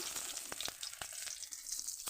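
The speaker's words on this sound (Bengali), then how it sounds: "মাছের তেলের ভিতরে তেজপাতা দিয়ে দিলাম" A bay leaf sizzles in oil left from frying fish, giving a soft, steady crackle broken by a few sharp pops.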